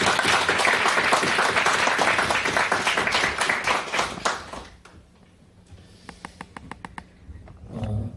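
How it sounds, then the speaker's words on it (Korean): A church congregation gives steady, full applause that ends after about five seconds, leaving quiet room tone with a few faint taps and a short rustle. "다시 한번 박수로 하나님께 찬양 올려드립니다"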